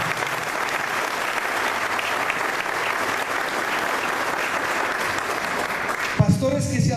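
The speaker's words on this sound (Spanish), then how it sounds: "Denle un aplauso al Señor por eso." A church congregation claps steadily during a Spanish-language service, a full, even roar of hands lasting several seconds before a voice cuts in at the very end.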